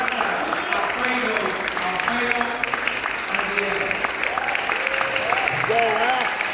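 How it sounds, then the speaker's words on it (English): Audience applause rings out through a council chamber at a Hispanic Heritage Month celebration, greeting a guest; steady clapping fills the room while speech and music-like voices carry over it. "please, an applause for my friend"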